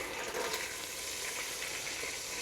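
A stick of butter sizzles and melts in a pan for crawfish étouffée, making a steady, soft frying hiss with no other sounds over it.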